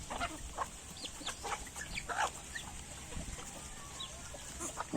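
Native chickens cluck and call softly at a feeding, with short scattered clucks from several birds at mid distance over a faint outdoor background.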